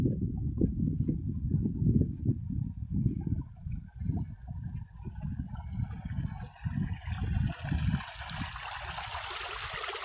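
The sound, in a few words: water flowing under high pressure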